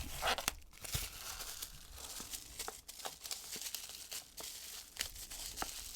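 Packing tape is torn and peeled from a tarot deck box in close, scratchy crackling bursts mixed with crinkling, steady over several seconds without talk.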